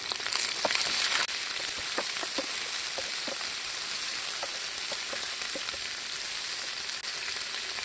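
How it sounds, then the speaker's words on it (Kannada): Mint and coriander leaves fry in hot oil for paneer green masala, a steady close sizzle with a few light scraping taps from stirring and no talking. "ಈಗ ಇದು ಸ್ವಲ್ಪ ಫ್ರೈ ಆದಮೇಲೆ ನಾವು ಪುದೀನ ಮತ್ತು ಕೊತ್ತಂಬರಿ ಸೊಪ್ಪನ್ನು ಆ್ಯಡ್ ಮಾಡ್ಕೊಳ್ಳುವ."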